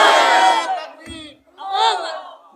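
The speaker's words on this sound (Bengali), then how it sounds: "তাকবীর হবে না একটা?" A large crowd at a religious gathering in Narsingdi roars a takbir chant of Allahu Akbar in two loud, close bursts separated by a brief lull.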